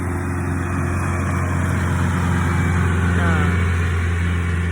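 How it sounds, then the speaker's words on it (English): A tractor trailer engine rumbles past outdoors, a steady low heavy drone that holds throughout with a faint rising whine near the end, while a person talks over it. "Here go the tractor trailer again."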